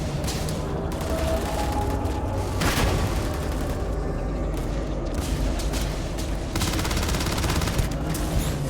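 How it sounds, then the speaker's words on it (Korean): Heavy gunfire from Starfield rattles in dense automatic bursts, broken by a loud grenade blast near the start and more surges later, continuous and close with no talk. "수류탄."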